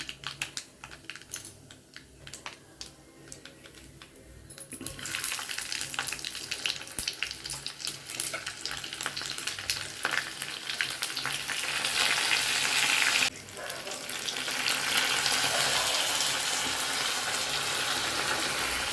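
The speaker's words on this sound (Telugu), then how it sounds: "మనం పోపుకి నూనె వేసుకున్నాం కదా పోపు వేద్దాం" Tempering spices for sambar sizzle and crackle in hot oil, starting softly, then erupting into a loud, steady spatter that continues with a brief dip near the end.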